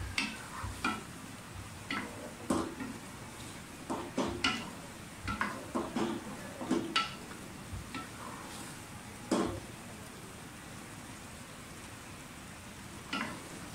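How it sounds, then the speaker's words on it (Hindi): Ingredients for aloo matar pulao roast in a pan, heard as a string of scraping stirs and clinks against the metal over a low sizzle, louder in irregular bursts and then thinning out. "अच्छी तरह से भुनाई करना।"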